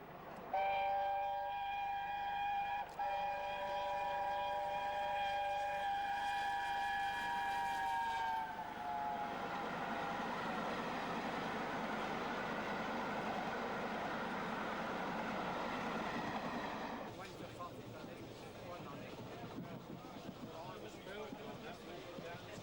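Steam locomotive Number 9 hauling The Elizabethan near Hitchin station sounds a long multi-tone whistle, then rumbles past with rolling wheel and carriage noise that fades, a narrator speaking over it.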